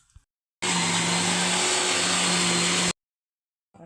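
A kitchen mixer grinder whirs loudly and steadily for about two seconds, grinding a paste of thothni greens for a fish dish, with a sharp start and stop and silence on either side.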